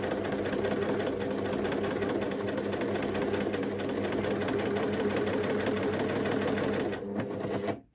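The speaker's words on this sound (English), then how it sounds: "I'm just going to place my presser foot down and start to stitch." A serger sewing machine stitching around a circular Christmas fabric napkin, running in a fast, steady mechanical rattle close by, then stopping abruptly near the end.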